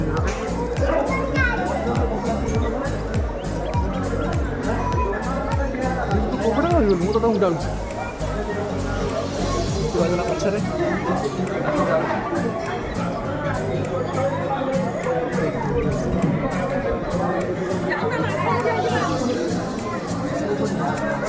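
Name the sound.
crowd of people thronging at a temple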